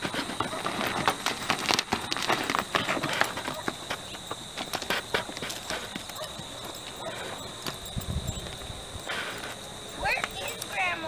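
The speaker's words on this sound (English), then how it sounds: "I don't think you're going to be able to get a lope out of that one, Brandy." A ridden horse's hooves clip-clop steadily at a walk or trot outdoors in weedy ground, with the rider being urged on to lope.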